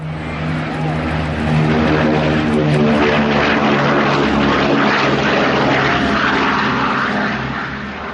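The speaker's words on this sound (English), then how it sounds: "the Boeing B-29 Superfortress" A WWII Boeing B-29 Superfortress heavy bomber drones steadily overhead, its propeller engines producing a loud, continuous, throbbing hum that swells slightly and then holds.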